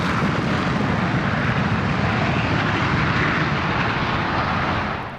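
F-16 and JF-17 fighter jets taking off at a Pakistan airshow flying display: a loud, steady, broad engine roar that holds for about five seconds and eases slightly at the very end.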